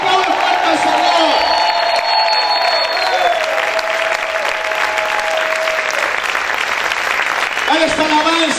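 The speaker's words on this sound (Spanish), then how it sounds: "Grita en esta hora, aplaude fuerte al Señor." Church congregation applauding loudly with cheers and whoops, a steady dense roar of clapping throughout, with voices singing and calling out over it.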